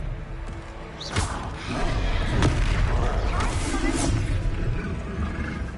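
The Expelliarmus spell fires in a Hogwarts video game: a sharp magical burst followed by booming, rumbling impacts and a sustained roaring swell, loud and dense throughout.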